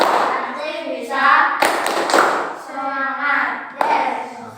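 A group of children clapping the rhythmic Indonesian 'tepuk semangat' chant in a classroom, bursts of claps between sung or chanted voices, lively and close.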